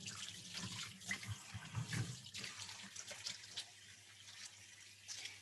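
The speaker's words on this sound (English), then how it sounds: "So I'm going to wash my hands again." Hands washed under a running tap in a sink, a faint, steady rush of water with soft splashing and rubbing, slightly louder in the first two seconds.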